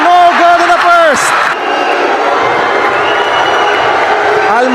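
A basketball arena crowd at a finals game cheers and jeers during a free throw, a loud, sustained roar of many voices. A commentator's voice rides over the noise near the start.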